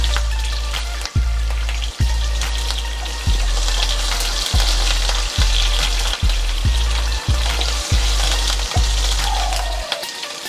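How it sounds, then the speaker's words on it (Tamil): About ten garlic cloves fry in hot oil for Sri Lankan parrot fish sodhi, giving a loud, continuous close-up crackle and hiss. Regular dull thumps land roughly every second beneath it. "பூண்டு நல்லா பொன்னிறமாக பொரிஞ்சிருச்சு."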